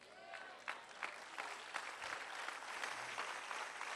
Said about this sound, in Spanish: Aplauda con más entusiasmo si le va a aplaudir al Señor